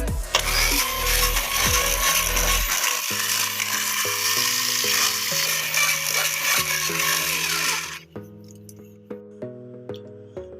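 Mixer grinder blending a thick mango ice cream mixture, a loud close whirring churn for about eight seconds, then the motor cuts and soft music continues alone.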